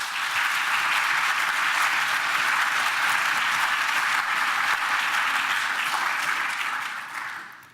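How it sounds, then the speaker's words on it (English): Sustained applause from a large audience at a plenary session of an academic alliance meeting in Barcelona, even and full for several seconds before tapering off at the end, with no voices over it. "Let's applaud them,"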